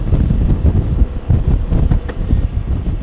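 Steady wind buffeting a microphone outdoors on Siargao Island, Philippines, a continuous low rumble with gusty swells and no voices, sounding close and loud.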